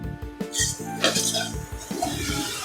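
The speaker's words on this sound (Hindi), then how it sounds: "इन सबको हम फ्राई कर लेंगे।" Spices with red chilli powder and salt frying in a pan for a spring roll filling, heard as clattering pot and utensil scrapes with a soft sizzle underneath, close and fairly busy throughout.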